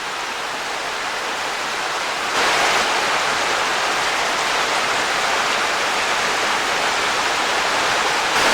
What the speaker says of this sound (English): Beautiful cascades down there, waterfalls.